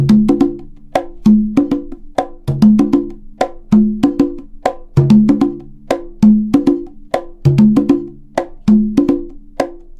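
A steady, lively hand drum groove of crisp slaps and resonant open tones, repeating a syncopated pattern at a moderate tempo with no voices.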